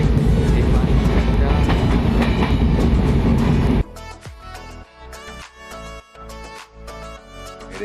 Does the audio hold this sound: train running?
yes